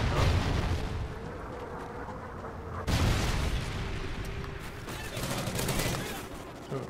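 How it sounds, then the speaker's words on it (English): A friendly Trinity rocket strike hits in a multiplayer shooter match with a sudden heavy blast near 3 seconds. Rattling gunfire and rumbling impacts continue around it, and some faint chatter sits in the mix. "Friendly Trinity rocket inbound."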